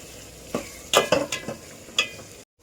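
Onions frying in a pan for a village-style mutton curry, a steady sizzle broken by several scraping stirs of a spoon against the pan, close and fairly loud, with no talk.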